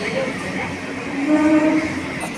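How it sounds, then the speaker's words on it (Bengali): A Budge Budge local train rolls into a busy station, a steady low rumble and rail noise swelling slightly partway through, with people talking over it. "দেখা ট্রেনটা ঢুকছে আপ ডাউন দুদিকে ট্রেন ঢুকছে"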